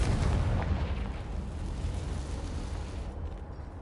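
A Confringo fire spell blast in the video game Hogwarts Legacy: a loud, booming explosion that bursts at once and then rumbles away over a few seconds with no other sound.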